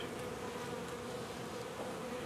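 Continuous droning buzz of many honeybees in a hive in cold weather, a low steady hum held throughout without talk.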